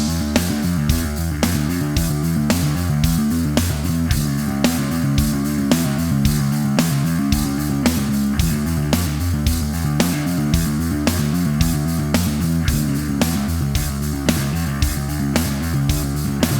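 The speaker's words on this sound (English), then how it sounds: "I've added a little dirt to the tone there with the dark glass Alpha Omega pedal" A bass guitar riff of quick hammer-ons and pull-offs, lightly distorted by a Darkglass Alpha Omega pedal, plays over a steady backing track with driving drums, loud and continuous.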